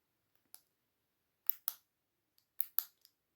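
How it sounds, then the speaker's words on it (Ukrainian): Small, crisp plastic clicks from inside a Carp Pro WRG headtorch sound close up in a quiet space, spaced irregularly with a few coming in quick pairs. "Ну, чуєте? Клацає."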